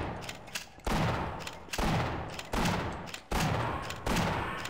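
Loud shotgun blasts in the video game Half-Life, five or six heavy booming shots spaced roughly a second apart, each with a decaying tail, close and alone without talk.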